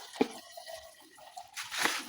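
Moringa leaves being washed under running water, with soft drips, splashes and wet squishes close by, a sharp splash at the start and a swelling gush of water near the end, with no voices.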